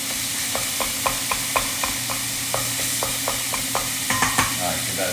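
Meat sauce for Bolognese sizzles and browns in a pan, with a steady frying hiss under a run of regular scraping stirs from a spoon.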